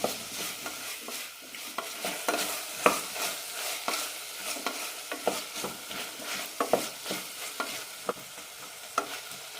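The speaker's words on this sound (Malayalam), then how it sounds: "രണ്ട് മൂന്ന് മിനിറ്റ് നന്നായി വഴറ്റി കൊടുക്കാം" Radish sautéing in a pan for a Kerala-style radish gravy, with a steady frying sizzle broken by repeated scraping stir strokes of a spatula, close and fairly loud, with no talk.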